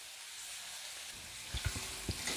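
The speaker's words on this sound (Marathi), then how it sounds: "आपण हा कांदा हलका सोनेरी रंग येईपर्यंत तेलात चांगला परतून घेऊ" Thinly sliced onion fries in hot oil with garlic and curry leaves for a peanut amti, giving a steady bright sizzle; partway through, a few soft stirring scrapes and thumps cut in over the hiss.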